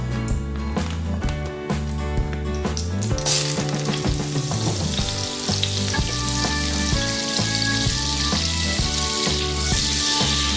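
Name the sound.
butter melting and sizzling in hot oil in a pan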